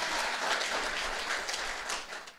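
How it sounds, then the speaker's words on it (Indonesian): Church congregation applauding during a Sunday worship service, a dense steady wash of clapping that holds fairly even for a couple of seconds before easing slightly at the end. "Kasih tepuk tangan buat Tuhan Yesus."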